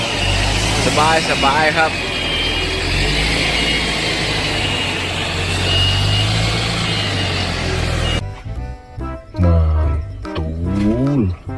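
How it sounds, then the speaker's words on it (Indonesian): A large concrete mixer truck engine rumbles nearby in a steady low drone under continuous talk, then the scene cuts to quieter moments with a voice speaking. "Wow, yang ini ada mobil molen besar."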